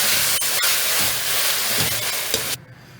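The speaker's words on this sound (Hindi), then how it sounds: "एक मिनट के बाद हमने ये मैरिनेटेड चिकन इसमें डाल देना है। फिर 5 मिनट तक इनको भूनना है।" Marinated chicken frying in a pan for chow mein, a loud steady sizzle with a few sharp crackles and pops, dropping off suddenly near the end.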